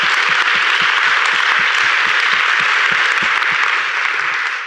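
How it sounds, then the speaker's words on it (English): Applause at a sustainable finance summit: continuous loud crowd clapping, dense and even, with a steady rhythmic thump of nearby claps underneath. "Big applause."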